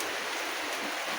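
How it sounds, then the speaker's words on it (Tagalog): Heavy rain pours down by the sea, a dense, steady hiss of falling water that fills the air without a break, close and loud. "Lakas ng ulan doon sa laot."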